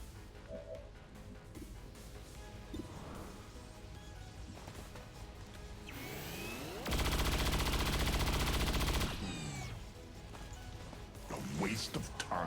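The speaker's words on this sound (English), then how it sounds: "I think we're just gonna reload with you and just shoot it." Sustained bursts of video game weapon fire, a dense roar of automatic shots peaking mid-clip, set against ongoing game sounds and a speaking voice.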